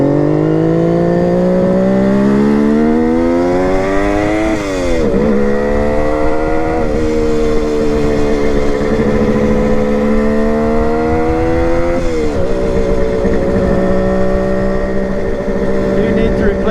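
A motorcycle engine runs steadily after a one-kick cold start, a loud close idle whose pitch rises and falls with a few throttle blips, while a person talks over it.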